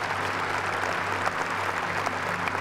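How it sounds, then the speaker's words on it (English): A church congregation claps in praise during a Sunday service, a steady wash of applause filling the room alongside a low sustained music tone beneath it. "Come on, give the Lord a big hand clap of praise."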